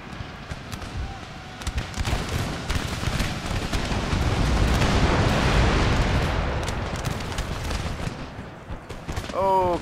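Musket volleys in the battle game Empire: Total War, massed gunfire building into a dense rolling crackle and rumble that swells in the middle, then thins out.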